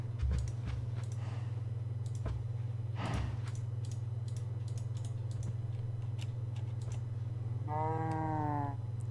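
A cow in Minecraft gives one clear, close moo near the end, over a steady low hum and scattered keyboard clicks.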